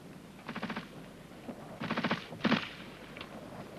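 Bursts of automatic gunfire from a British Army gun group covering a rifle section's advance over open ground, heard as three rapid strings of shots at moderate distance with short pauses between them.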